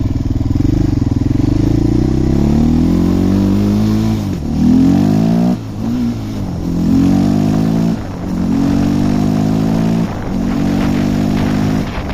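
A small engine of a Suzuki LTZ400 ATV runs steadily after priming, with a rough, slightly popping idle a little high, rising and dipping in pitch as it is revved a few times, loud and close.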